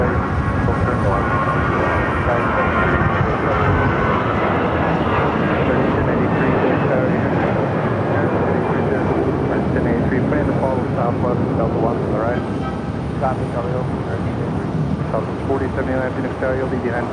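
A jet airliner's engine roar fills Phoenix airport continuously and loudly at close range, a broad steady rumble with rising whine, while a voice talks over it.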